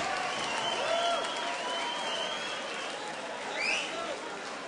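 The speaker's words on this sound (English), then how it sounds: "a big round of applause" A crowd applauds and cheers after a mixed martial arts fight at the UCC 1 event, a continuous roaring wash of noise heard from a distance, swelling briefly near the end.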